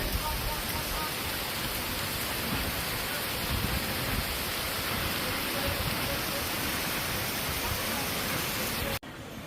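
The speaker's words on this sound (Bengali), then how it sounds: "বৃষ্টি শুরু হয়ে গেছে বৃষ্টি পড়তেছে" Heavy rain roars in a constant, loud wash of noise, cutting off abruptly near the end.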